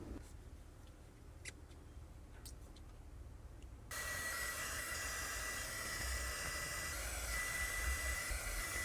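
A heat gun shrinks heat shrink tubing over a wire connection during a Subaru Outback subwoofer install: a faint hiss first, then a loud, steady blowing roar that switches on partway through and keeps going.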